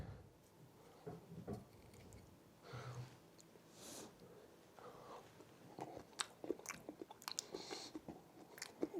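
Close, quiet chewing of cooked saffron milk cap mushrooms served as tapas, with soft wet bites and smacks in an irregular rhythm that grows busier near the end, no talking.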